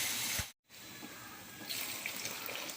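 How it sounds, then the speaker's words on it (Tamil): Water runs steadily into a pot, briefly cut off by a short silence, then resumes, its splashing brightening toward the end. "ஸோ ஒரு ஒன்றரை கிளாஸ் தண்ணி ஊற்றிட்டேன்"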